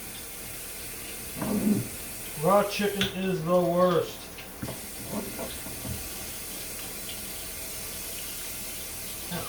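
Hot water runs from a kitchen tap as hands are washed after handling raw chicken, a steady faint hiss throughout beneath a voice speaking in the middle.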